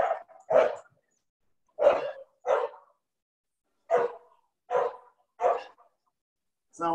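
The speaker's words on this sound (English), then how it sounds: "Sound like somebody's dog is joining in on the party." A dog barks nearby, about eight sharp, loud barks coming singly or in quick pairs with short silent gaps between them.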